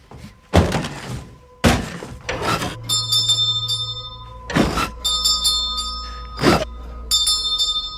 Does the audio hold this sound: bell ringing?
yes